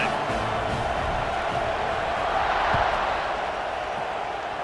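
A stadium crowd at a football game keeps up a loud, steady roar that swells slightly midway, with faint voices mixed in.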